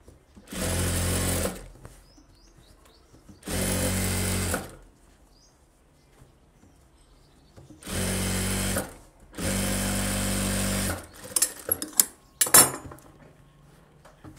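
A sewing machine stitches the edge of a blouse back with a rope design in several separate runs, each a steady mechanical whir lasting one to two seconds, close and loud, with brief clinks and handling noises between runs.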